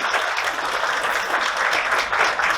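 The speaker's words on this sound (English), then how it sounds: "give them a round of applause for helping us doing this year" A conference audience applauds its supporters with brisk, continuous clapping from many hands, loud and even throughout the short burst.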